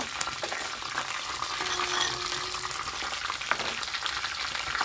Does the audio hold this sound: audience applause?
no